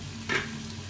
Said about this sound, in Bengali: প্রথমে আলুটা দিয়ে একটু ভেজে নেব।